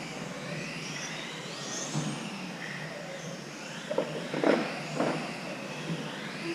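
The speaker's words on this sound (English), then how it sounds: "I can give it throttle out of corners now." A Mini BMW car engine accelerates out of corners, a steady, fairly distant motor drone with a few brief louder surges, and no voices.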